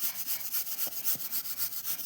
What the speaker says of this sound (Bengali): তো আমার ছেলে ভালো করে গুড়টা দেখো ঘষে দিচ্ছে